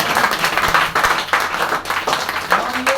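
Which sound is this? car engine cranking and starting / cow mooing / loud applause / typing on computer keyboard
loud applause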